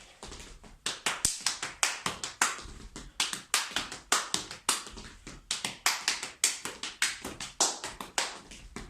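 Zapateo dance footwork tapping out a pasada: a rapid, sharp train of close percussive heel and toe strikes on a hard floor, grouped in short-short-long patterns and steady throughout, with no voices.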